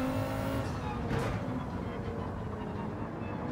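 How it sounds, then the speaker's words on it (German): A DTM Audi RS5 race car in Gran Turismo 7 drives on the Nordschleife, its engine droning steadily as it keeps accelerating, with a brief whoosh partway through and a voice speaking over it. "das Auto beschleunigt auch ohne DRS noch gut weiter"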